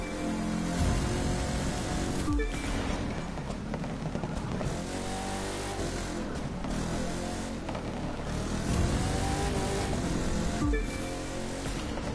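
A race car in The Crew 2 at a Motor City live summit roars steadily with a nitro boost, a continuous loud engine and rushing wind with brief gear-change dips throughout.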